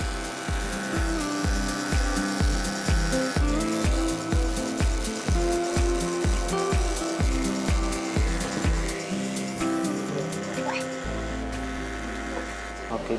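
Electric barber clippers buzz steadily while trimming the front hairline, a pulsing motor hum over a rhythmic low thumping beat that runs underneath and drops away near the end.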